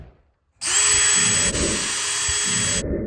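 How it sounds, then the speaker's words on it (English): Power drill pre-drilling screw holes in a wall stud for mounting an elk skull, a single loud continuous whining run of about two seconds after a moment of silence. "Pre-drill your screw holes."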